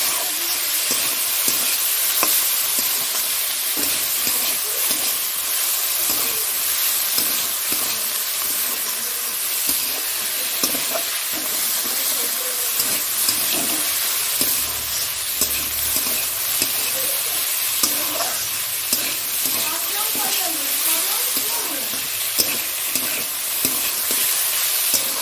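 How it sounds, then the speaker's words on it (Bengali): Onions and other ingredients stir-fry in a hot pan for a home festival meal, a steady loud sizzle with frequent scraping stirs throughout, heard alone with no talk. "পেঁয়াজটা এগুলো ভাজা হয়ে গেছে, এটাও দিয়ে দিলাম।"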